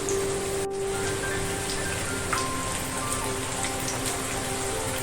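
Steady, dense sizzling and crackling of sweet corn pakoda batter frying in hot oil, continuing evenly throughout without talk.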